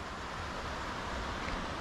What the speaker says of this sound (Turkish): bir dere akıyor.